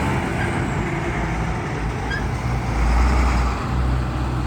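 A truck passes on a road in Slippery Rock, Pennsylvania, a broad rumbling roar that swells louder toward the end, heard outdoors with steady traffic noise and no talk.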